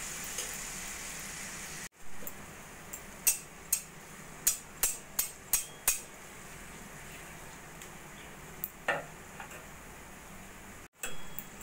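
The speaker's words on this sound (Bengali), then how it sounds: "একইভাবে আমি একটা একটা করে বাকি মালপোয়াগুলো ভেজে নেব।" Malpua fry in oil with a faint, steady sizzling hiss, broken by a series of sharp little ticks and clicks from the pan and utensils.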